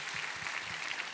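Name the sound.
congregation applause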